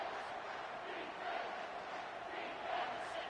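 A college football stadium crowd roars at a steady, loud level, a broad continuous wash of cheering with slight swells, heard from a distance and without commentary.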